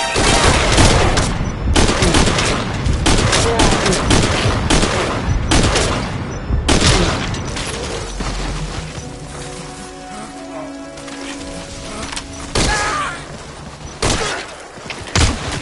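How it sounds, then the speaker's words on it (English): Gunfire in Metal Gear Solid V on PS4: bursts of rapid automatic shots and sharp single cracks, loud and close, with a lull of ringing echo midway before more shots resume. "Gunfire. No fix on the position."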